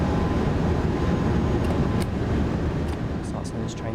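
A train in Train Sim World on the Hauptstrecke Rhein-Ruhr route toward Essen runs as a loud, steady low rumble of wheels and traction, with a few faint clicks and brief ticks as it starts to slow.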